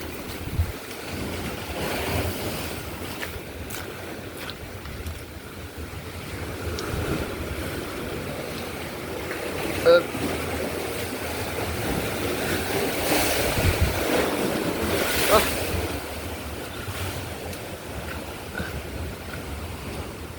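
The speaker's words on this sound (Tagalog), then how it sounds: "ito na ang dagat oh" Sea waves surge and wind roars at the coast during Typhoon Uwan, with a continuous rumbling wash and a few louder gusts or breaking swells.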